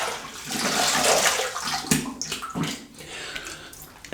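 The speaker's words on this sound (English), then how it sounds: "let me have a quick rinse" Water splashing and running at a sink as a face is rinsed after a shave, with close gurgling, dripping splashes and uneven bursts.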